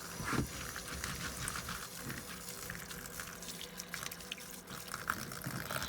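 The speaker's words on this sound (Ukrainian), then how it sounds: "Лишнє стікає вода." Excess water drains and trickles from freshly rinsed sprouting grain prepared as chicken feed, a faint, continuous splashing dribble with a few soft knocks, close by and quiet, with no voices.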